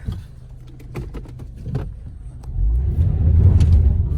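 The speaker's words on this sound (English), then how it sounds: "Got a little wheel spin." A 2008 Mazda 3 pulls away with wheel spin, a close engine rumble swelling louder in the second half over scattered clicks and knocks from inside the car.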